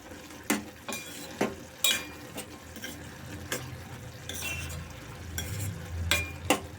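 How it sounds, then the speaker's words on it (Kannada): Ridge gourd cooking in its own water in a pan for palya. A soft, low sizzle sits under sporadic sharp metal scrapes and clinks of a spoon against the pan, close and fairly quiet, with no talking. "ಬೇಯ್ತಾ ಇದೆ ಅಷ್ಟೇ ನೀರಲ್ಲೇ"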